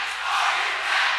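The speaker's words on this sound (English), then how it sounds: "jungle is responding to the Rams home crowd" Home basketball crowd roaring and cheering for the Rams during a high school game, a dense, steady wall of noise that swells slightly and holds without a break.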